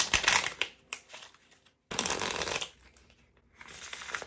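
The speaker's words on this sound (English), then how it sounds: "I'll give these cards a few shuffles and then we will draw our new cards." A deck of playing cards shuffled in several loud riffling bursts, close up, separated by brief pauses, with no talking.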